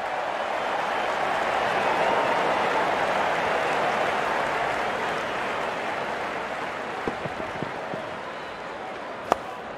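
Cricket crowd at an India versus Pakistan match applauding a batsman's half-century: a broad, sustained wash of clapping and crowd noise that swells early and slowly fades, with a few sharper isolated claps near the end.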